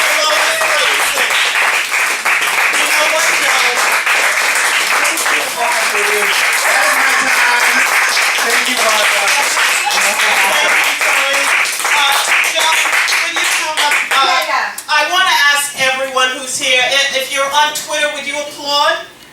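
Loud, sustained applause from an audience at a live show for Lois Thompson, dense clapping filling the whole stretch, with voices and cheering mixed in toward the end.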